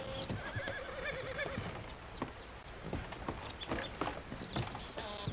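Horses in Red Dead Redemption 2 whinny and neigh over clip-clopping hooves, with a mechanical rattle and busy game ambience filling the background.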